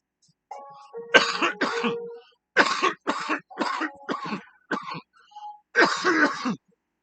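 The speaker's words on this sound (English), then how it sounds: "But there's a little cough." A person coughs and clears their throat after smoking, a string of separate harsh bursts in quick groups, close to the listener, with quiet gaps between them.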